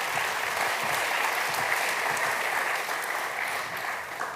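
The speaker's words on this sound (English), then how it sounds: "ask the audience for a big round of applause" An audience at the Think 20 Summit applauds a panel, with dense, continuous clapping that fills the room at an even level for several seconds before easing slightly toward the end.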